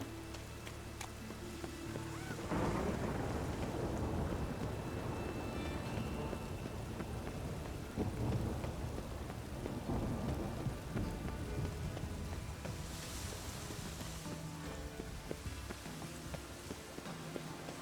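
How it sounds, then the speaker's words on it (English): Heavy rain pours steadily in a game world, with a low rolling rumble of thunder building under it and a dense patter on surfaces that holds throughout. "Lots of fuss over lots of rain."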